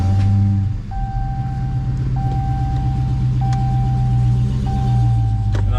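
A Dodge Hellcat's engine rumbles deeply at close range while a dashboard chime beeps at regular intervals, about four evenly spaced tones over the steady idle.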